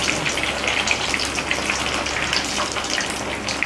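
Pudhina malli fish pieces frying in hot oil, a steady dense crackling sizzle with popping bubbles throughout, close and fairly loud with no talking.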